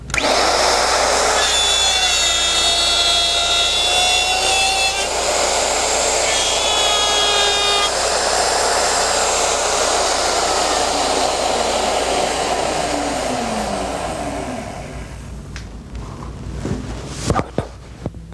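A router cuts a dovetail slot on a Porter Cable Omnijig dovetail jig: a loud steady high whine with shifting tones, fading as the motor spins down near the end, followed by a few clicks.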